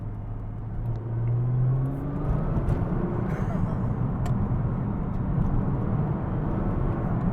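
Nissan GT-R R35 with twin turbochargers accelerating on a public road, a deep rising engine drone and rumble heard from inside the car, loud and steady with a faint whistle above.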